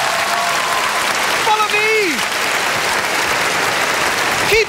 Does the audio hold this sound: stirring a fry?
no